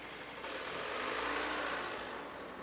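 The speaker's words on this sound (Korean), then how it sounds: "워밍업이 되고 나면 엔진 속도를 2500rpm으로 올려줍니다" A running car engine, warmed up and held at a steady 2500 rpm for a charging system test, gives a continuous mid-pitched hum that swells slightly and then eases, close by with no talk.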